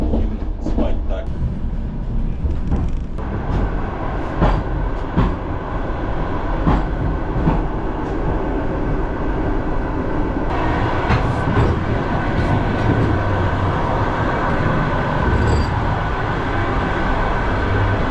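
Suburban train rolling on rails, heard from inside the carriage: a steady, loud low rumble with repeated clicks and knocks from the wheels, continuous throughout.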